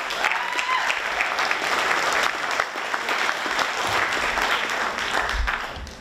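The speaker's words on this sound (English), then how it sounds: "can you just give him a little round of applause?" An audience at a school activities meeting breaks into steady, fairly close applause, many hands clapping continuously for about six seconds with no letup.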